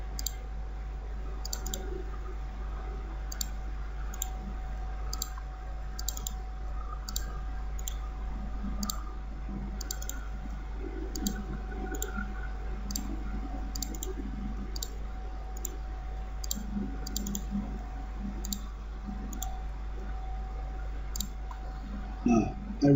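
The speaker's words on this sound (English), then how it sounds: "then I click and select to bring, and then I click again" Quick, light computer mouse clicks while selecting parts of 3D text in design software, coming in irregular runs over a steady low hum, close and crisp with no talking.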